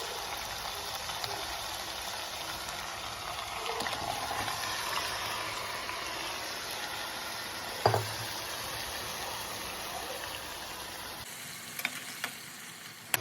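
Marinated chicken cooking in a pan with ginger garlic paste, giving a steady close sizzle and frying hiss throughout, a brief clatter of stirring near the middle, then quieter bubbling toward the end.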